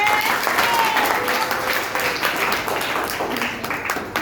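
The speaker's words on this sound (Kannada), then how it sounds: "ಕೃಷ್ಣಗೆ ಜೋರಾದ ಚಪ್ಪಾಳೆ" Loud applause from an audience at a Karnataka Rajyotsava cultural program as a first-prize winner is called up, dense continuous clapping that holds steady and fades slightly near the end.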